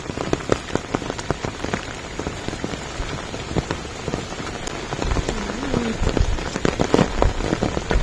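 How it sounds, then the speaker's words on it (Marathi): Heavy monsoon rain pours onto surfaces in the farm fields of Palghar district, a dense, continuous patter with sharper drop impacts, close and steady, growing slightly louder toward the end. "इकडे तर रात्रीपासून भरपूर पाऊस लागलेला आहे."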